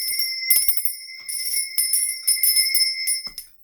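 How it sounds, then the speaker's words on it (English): A small hand bell rings in bright, sustained bursts with short gaps between them, loud and close, with no voices. "I'm going to be ringing this bell"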